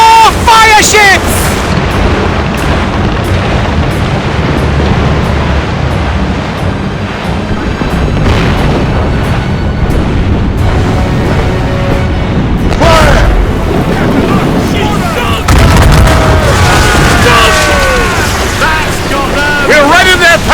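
Naval cannon fire and explosions from a sailing-ship battle in Assassin's Creed Rogue: loud, repeated booms over rushing wind and water, with bursts of crashing blasts and shouted voices between the shots.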